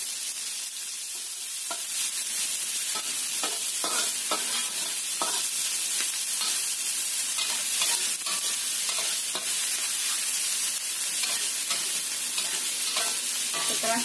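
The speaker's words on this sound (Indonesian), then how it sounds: "Kita panaskan minyak lagi. Kita masukkan bawang putih, bawang merah irisan. Tambahkan bawang bombay. Kita tumis sampai kering enak atau layu." Garlic, shallots and onion sauté in hot oil with a steady, bright sizzle, joined by intermittent scraping stirs of a utensil in the pan, close and continuous throughout.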